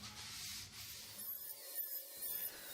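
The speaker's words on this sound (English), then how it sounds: "I will take a piece of 400 grit and do the rest by hand" Steady scratchy rubbing of 400-grit sandpaper by hand across a wooden surface, a continuous close-up hiss with slight back-and-forth swells and no voices.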